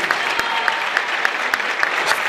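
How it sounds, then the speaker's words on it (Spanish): Audience applause for a student at a youth expression contest, steady mid-level clapping from a crowd with a few sharper individual claps standing out. "Un gran aplauso para esta alumna."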